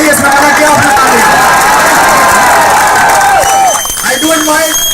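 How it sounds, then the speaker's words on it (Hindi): A political rally crowd at Jantar Mantar claps and cheers in a loud, continuous roar, with whistles and shouted voices rising over the mass of applause throughout. "एक बार मैंने तालियां बजाइए"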